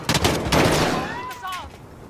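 Gunfire in a military video game, a burst of heavy shots close and loud followed by a fading ringing tail, with no voices over it.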